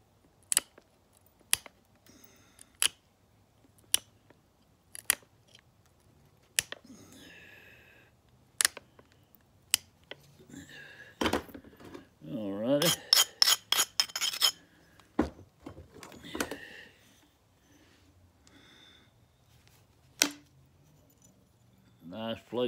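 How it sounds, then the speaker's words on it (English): Stone chipped by indirect percussion, struck toward the knapper to shape a gentle convex slope: sharp, close clicks and taps at irregular intervals, with a denser burst of scraping and rapid strikes in the middle. "I'm chipping towards my body to make me a little convexity, a little slope on this side."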